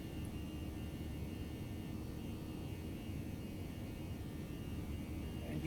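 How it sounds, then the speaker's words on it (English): ToLiss A319 airliner engines spooling up to takeoff thrust in X-Plane 11, a steady, faint, broadband jet roar with a constant hiss and no clear change in pitch. "I'm slowly increasing our throttle up to the full toga position"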